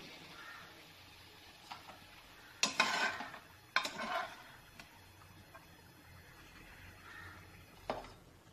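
Fried prawns are scooped out of hot oil in a kitchen. Quiet sizzling runs underneath two clear scraping, splashing scoops and a few lighter clinks of the ladle.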